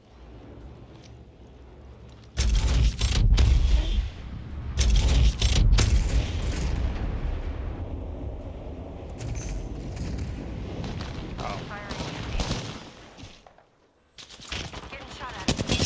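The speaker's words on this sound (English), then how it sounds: "Getting shot at." Loud automatic gunfire in the Apex Legends battle royale game, several heavy bursts of fusillade in the first half, then continued distant shooting and game noise, with a brief drop to near silence before resuming.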